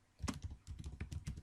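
A quick burst of keystrokes on a computer keyboard while a code comment is typed, close and crisp with an uneven rhythm and no talking.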